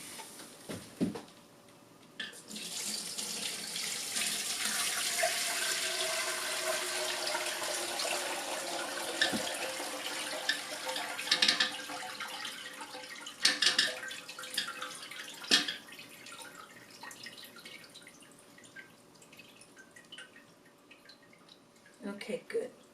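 Whey poured off cheese curds into a container makes a long, steady splashing stream that gradually thins, followed by scattered drips and small clinks, with a person talking throughout.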